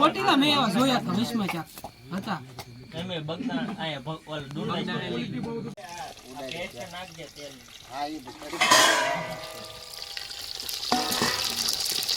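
Papad frying in oil in a pan in a village kitchen makes a hissing crackle that runs beneath people chatting and laughing nearby.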